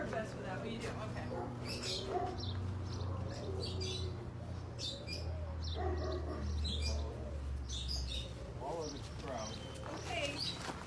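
Doves, pigeons and lovebirds in pens coo and chirp in a steady busy chorus, with occasional hoof-like clops and people talking throughout.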